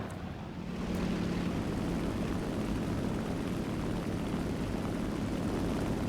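The propeller engine of an SBD-3 dive bomber in War Thunder drones loudly and steadily after a quieter opening second, a dense continuous roar with no talk.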